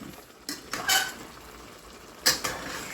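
A spoon stirs lamb in a cooking pot, giving a few scraping clinks and knocks against the metal in short bursts over a quiet simmer.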